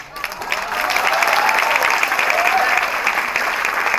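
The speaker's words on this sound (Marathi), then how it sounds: "टाळ्या वाजवल्यात" An audience at an acting academy event applauds for a celebrity guest, loud sustained clapping rising quickly and holding steady throughout.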